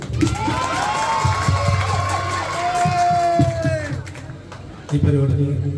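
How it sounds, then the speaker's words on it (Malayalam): An event audience for Nazriya cheers and shouts loudly, a dense crowd roar with whoops and children's voices layered over voices, swelling then dropping briefly before resuming. "നസ്രിയയ്ക്ക് വേണ്ടി ഒരു നല്ല കയ്യടി കൊടുത്ത എല്ലാവരും."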